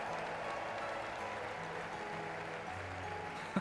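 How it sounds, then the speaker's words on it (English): Steady, continuous applause from a large crowd after a tournament in the video game Trails in the Sky 1st Chapter Remake, with a faint tonal hum underneath and a brief thump near the end. "let us shower these victors with thunderous applause"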